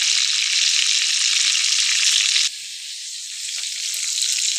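Chicken seekh kebabs browning in a pan give off a steady, close sizzle that drops a little softer midway, then keeps crackling evenly with no talk.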